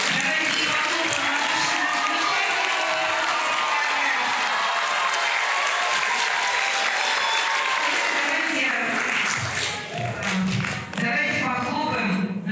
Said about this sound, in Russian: Давайте похлопаем нашим актерам, нашим участникам.